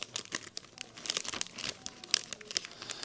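Decal transfer paper being handled, producing a close, loud run of irregular crinkles and crackling rustles with sharp bursts, no talking.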